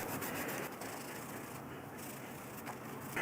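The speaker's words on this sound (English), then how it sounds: "take some rubbing alcohol on a towel. We're going to wipe that area" A towel dampened with rubbing alcohol rubs over a motorcycle's lower fairing, producing a steady, close, continuous wiping swish with slight variations in stroke.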